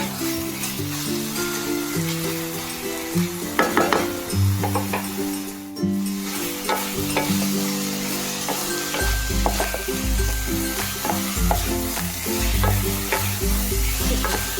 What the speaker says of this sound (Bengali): পনিরের জলটা যতক্ষণ না শুকিয়ে যায় ততক্ষণ কিন্তু একবার করে নেড়ে দিতে হবে কিছুক্ষণ ছাড়া ছাড়া